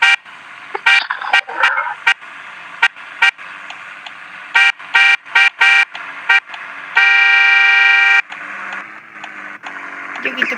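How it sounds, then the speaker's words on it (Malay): Car horn honks in a Roblox game: a series of short, sharp blasts of varying length, then one long sustained honk, with game sounds and background noise in between. "Aku tekan horn."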